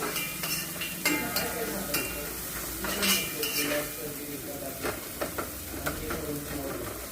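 Ground masala sautéing in a pan for a drumstick and potato curry, with steady sizzling, a spoon stirring and scraping against the metal pan, and sharp clinks of utensils, close and continuous.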